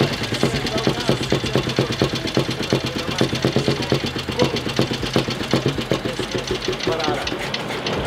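A vintage Čechie Böhmerland motorcycle engine idles nearby with a steady, loud, rhythmic thumping chug, while people talk over it.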